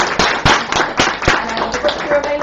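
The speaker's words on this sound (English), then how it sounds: "I want to give a round of applause to everyone in the room and to Graham for" Scattered claps from a book launch audience, a few loud separate hits among softer patter, with crowd chatter running underneath throughout.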